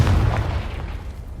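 A Confringo blasting spell from Hogwarts Legacy explodes with a single deep, loud boom at the start that rumbles and fades over about a second, with no talk.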